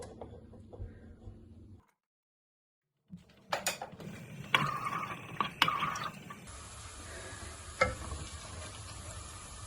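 Garlic fries in oil in a pan with a soft, steady sizzle, broken by a brief silence. Scraping and stirring clatter from the pan follows, then a continued low sizzle.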